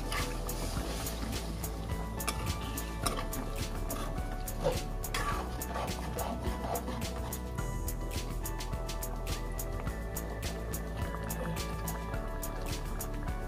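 Water poured from a glass into a pan of chicken leg semi gravy on medium flame, a continuous close liquid splash and drip over a sizzling bed with small squishy bursts throughout.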